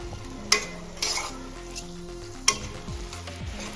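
Carrots sautéing in a pan for street-style vegetable masala Maggi, a steady close sizzle broken by a few sharp spatula scrapes and knocks as they are stirred, no talking.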